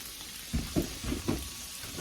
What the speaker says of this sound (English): we'll finish browning our pork sausage